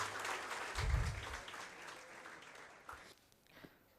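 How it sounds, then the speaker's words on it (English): Applause for two top-ranked civil services exam candidates at a talk, a moderate round of clapping that thins and fades out over a few seconds with a low thump early on. "let's have a huge round of applause for both our toppers"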